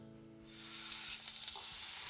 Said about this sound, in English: You know it's searing when it's got that kind of like sizzle.